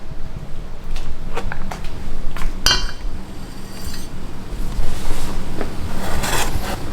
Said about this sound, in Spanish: agarran mantequilla de buena calidad y van a tirarla aquí en una olla